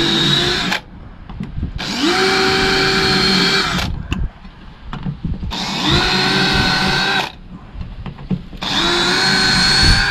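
A power drill with a VIX self-centering bit drives screws while building truck bed drawers for a Tacoma, in three loud whirring bursts whose pitch drops as each screw seats, separated by short pauses.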